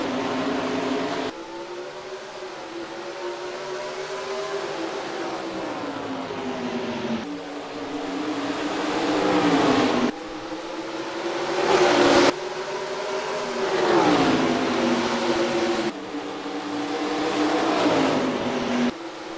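Race cars roar off at the start of a race at Richmond in the NASCAR Racing 2003 Season video game, a dense pack of engines rising and falling in pitch through repeated revving surges with no voices over it.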